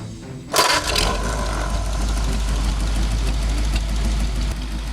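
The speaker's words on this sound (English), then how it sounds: "If you're reviewing engines and you skip the Ford Flathead V8, that's a serious omission." A Ford Flathead V8 built from a 59 AB block runs steadily with a low, continuous mechanical rumble and a brief sharp burst near the start, loud and close with no talk.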